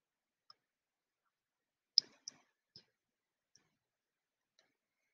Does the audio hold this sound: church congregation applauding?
no